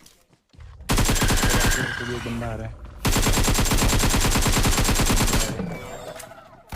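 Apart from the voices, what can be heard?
gunfire in the video game PUBG Mobile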